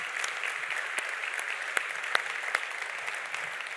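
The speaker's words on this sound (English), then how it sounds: "Applause for our friend." Steady audience applause at a large summit, a dense wash of many hands clapping with a few sharper claps standing out, fairly loud and even throughout, no voices over it.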